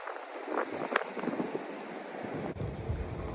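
Gusty wind buffets the microphone over surf at the Jacksonville Beach pier, a rough blustery rush with waves washing in underneath, close and fairly faint, no voices.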